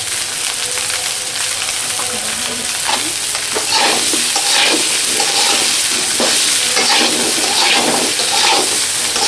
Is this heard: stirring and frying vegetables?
yes